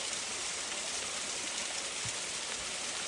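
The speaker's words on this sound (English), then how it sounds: "Pretty neat spot right on this waterfall here." A small woodland waterfall gives off a steady, close rush of falling water, broadband and unbroken, with no voices.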